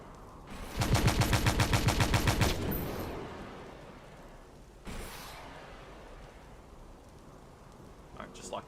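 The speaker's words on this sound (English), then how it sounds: "Fire the missile." A missile launch in the game Stormworks aboard a ship, heard as a loud, rapid rhythmic burst of repeated blasts lasting nearly two seconds, followed by a fading roar, then a second sharp burst and lingering rumble.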